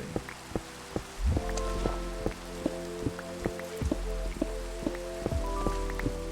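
Steady rain falls with scattered drips and patters over a constant wash. Regular tonal pulses ring through it, and no one speaks.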